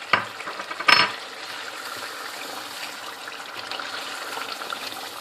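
Masala with nutmeg, mace and almond powder fries in ghee for chicken korma, giving a steady close sizzle with a couple of sharp stirring scrapes near the start and no voices.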